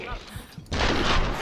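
Gunfire in the Tomb Raider video game, a sudden loud burst of shots breaking in after quieter game sound, with a player talking around it.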